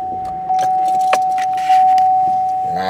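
Car keys jangling inside a 2016 Chevrolet Traverse, a few brief metallic clinks and rattles, close and moderately loud, over a steady in-cabin electronic tone, with a louder shaking flurry near the end.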